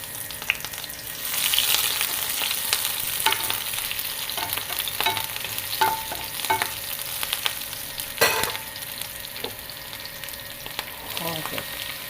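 Ivy gourd stir-frying with curry leaves, green chili and chopped onion, a steady close sizzle broken by scattered spatula scrapes and clicks against the pan throughout.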